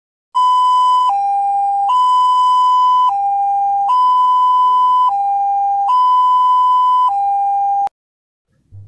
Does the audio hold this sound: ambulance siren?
yes